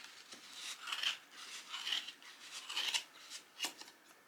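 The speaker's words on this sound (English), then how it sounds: "now I'm just going to put my scissors into the opening of the card, and I'm going to cut along" Scissors snip and slide through card while making a rag wreath, a series of soft, crisp cutting strokes recurring roughly every second, close and quiet.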